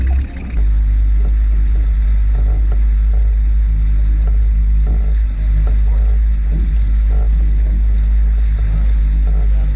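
A Mercury 15 Pro outboard kicker motor idles along steadily on a boat with a deep, constant low drone, loud and close, with faint background noise and no pauses.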